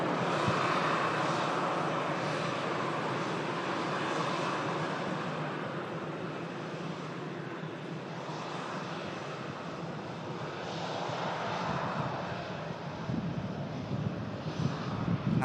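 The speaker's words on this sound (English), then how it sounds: "There's the Dreamliner for Cancun." A Boeing 787 Dreamliner airliner bound for Cancun flies past, its jet engines a continuous broad roar that swells and fades slightly over the whole stretch, heard from a distance outdoors.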